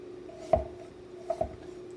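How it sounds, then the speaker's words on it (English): A knife cuts through food on a cutting board in two or three close, soft chops, with a low steady hum underneath. "Tip number 4, how to slice. Fingers flat, knife up against, tip of the knife on the board."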